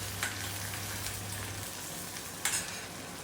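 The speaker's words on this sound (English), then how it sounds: "add chopped onion and saute them" Chopped onion sautéing in a pan for poha, a steady close sizzle with a couple of brief scraping stirs, no voices.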